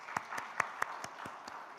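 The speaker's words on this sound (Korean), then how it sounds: "우리 하나님께 영광의 박수 올려드리겠습니다" Scattered handclaps from a church congregation during a Sunday worship service, about eight distinct claps spread unevenly over a couple of seconds, faint and somewhat distant with no talking.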